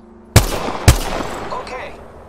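Gunfire in an Apex Legends match: two sharp, loud shots about half a second apart, each trailing into a fading rumbling echo.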